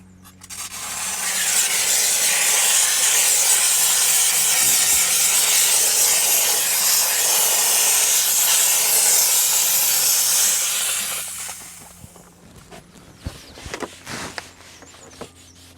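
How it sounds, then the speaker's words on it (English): A handheld steamer blasts a loud, steady hiss while cleaning leather grain, running for about ten seconds before cutting off, followed by light handling noises. "I actually need the steamer."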